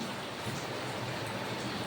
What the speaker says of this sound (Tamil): வெளியில பாருங்க சரியான மழை பெய்யுது